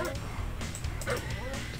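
Attack dogs in Command & Conquer Red Alert bark and yip in rapid bursts over game noise, with someone talking over them.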